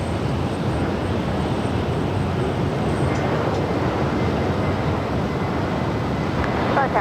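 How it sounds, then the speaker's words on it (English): A United Airlines Boeing 757-300 jet departing from a runway, its steady broad engine roar holding loud and constant throughout with no break. "This Southside departure is United Airlines 2362 departing to Chicago."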